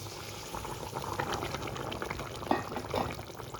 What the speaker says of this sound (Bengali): ভালো করে ফুটতে দেবো